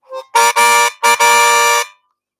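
Loud harmonica chords blasted in short and long bursts, mimicking a car horn honking, close and alone.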